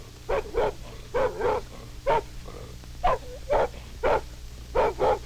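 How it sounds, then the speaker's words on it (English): A dog barks in short paired bursts, about nine loud, sharp barks in a steady rhythm, each followed by a brief pause, over a faint low hum. "something was coming. A dog."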